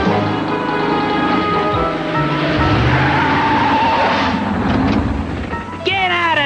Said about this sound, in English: there goes the first truck